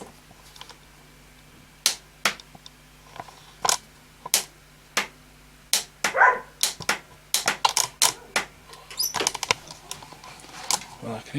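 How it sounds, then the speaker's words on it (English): Honda VRF750 motorcycle with an ailing starter motor, giving sharp, separate clicks and knocks in an irregular series, close by against a quiet background with a low hum underneath. "Well, I can hear something clicking, but that starter is not happy."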